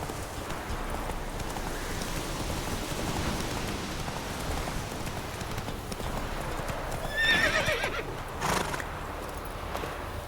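Roach, the horse in The Witcher 3 video game, trots with steady clip-clop hooves under constant rain, then lets out a loud, close whinny near the end.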